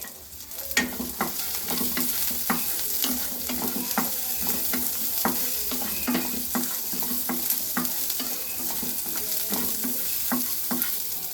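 Garlic and ginger sizzle with sautéed small shallots in hot oil, a steady close frying hiss broken by frequent scraping stirs and light spoon clinks throughout.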